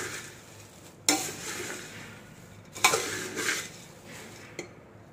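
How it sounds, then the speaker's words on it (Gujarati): A spoon stirring puffed rice and sorghum popcorn in a pan with turmeric, soft scraping and rustling punctuated by a few sharp metallic knocks against the pan, quiet overall. "આને સતત હલાવતા રહેવાનું, ને તો નીચે ચોંટી જાય."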